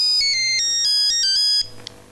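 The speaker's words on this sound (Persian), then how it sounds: "وسط گفتگو تلفن زنگ زد" Ringtone of a telephone chiming a bright repeating electronic melody, loud and steady for about a second and a half before cutting off.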